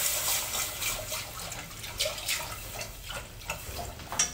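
Milk is poured into a roux in a home kitchen and mixed in. A continuous liquid splashing and trickling, with soft stirring clinks, sounds close and fairly quiet, without speech.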